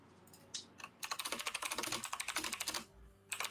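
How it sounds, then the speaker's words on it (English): A computer keyboard is typed on in quick bursts of soft clicks, with brief pauses between runs. The sound is faint and close, with no talking. "Button typing."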